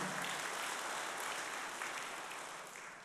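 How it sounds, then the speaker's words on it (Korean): A congregation at a 2014 religious sermon applauds in a short, soft burst of massed clapping that sounds somewhat distant and fades slightly toward the end. "우리의 영웅 문선명 총재님께 뜨거운 박수 한번 보내올렸습니다."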